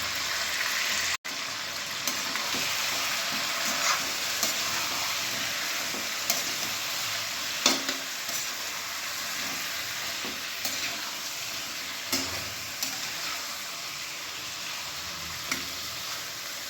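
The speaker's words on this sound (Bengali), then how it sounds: "এবার আমি মাংসটা একটুখানি ভেজে নেবো হালকা করে" Country chicken with a little salt and turmeric fries lightly in a pan, giving a steady, close hiss of sizzling oil with occasional soft stirring clicks throughout.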